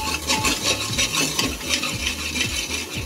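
Onions stir-fried in a pan with turmeric, garam masala, salt and red chilli powder for Punjabi rajma masala: a steady, close sizzle under continuous scraping and clinking of a spoon against the pan, with no talking.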